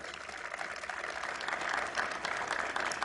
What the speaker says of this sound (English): They deserve some applause.